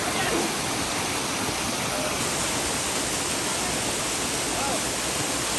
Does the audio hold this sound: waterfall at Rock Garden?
yes